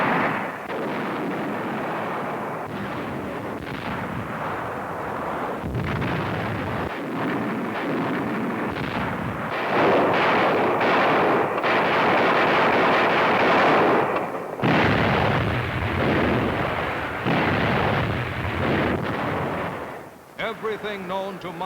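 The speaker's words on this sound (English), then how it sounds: "Everything known to modern naval science went into the annihilating bombardment of the targets in the Okinawa operation." Heavy naval bombardment off Okinawa, battleship big guns and smaller guns firing on shore targets, a dense continuous roar of blasts and rumbling detonations that runs throughout with a narrating voice over it.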